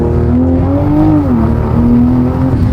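A 500bhp Toyota Supra engine droning loud and steady from inside the cabin, its tone gently rising and dipping as the revs shift.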